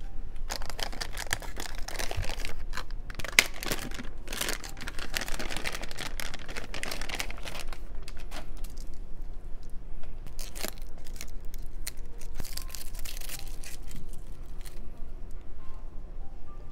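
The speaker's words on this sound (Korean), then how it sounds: "패널 뜯고 요것도 가이드도 이제 벗겨내고" Protective film and guides are peeled and pulled off a PC case panel up close, giving intermittent crinkling and tearing rasps with a few sharp clicks and quieter gaps between them.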